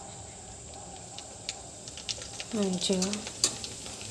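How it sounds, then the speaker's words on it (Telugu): Pani puri dough rounds deep frying in heated oil, a soft steady sizzle with small bubbling bursts, while a voice speaks briefly over it near the end. "ఇప్పుడైతే మనం పూరీలు డీప్ ఫ్రై చేసుకుందాం. ఆయిల్ అయితే వేసాను, హీట్ అయ్యింది."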